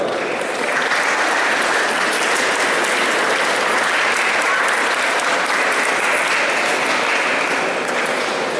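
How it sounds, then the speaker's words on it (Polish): Sustained, loud applause from a large audience at a school farewell ceremony for graduating third-year classes, a dense steady wash of clapping that fills the whole stretch without pause. "Wielkie brawa."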